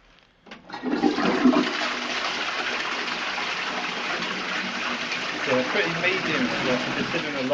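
A toilet in a cemetery public toilet block flushes loudly nearby, a sudden rush of gushing water that settles into a steady hissing refill for several seconds.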